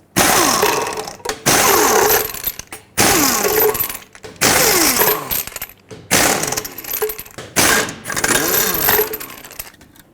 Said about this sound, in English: remove all 6 of your lug nuts, and then we'll remove the wheel